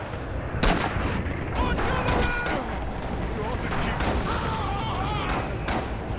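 Repeated gunfire from a Pacific-theater shooter game set on Iwo Jima: sharp loud shots and bursts crack at irregular intervals over a constant battle din, with French-speaking players talking throughout.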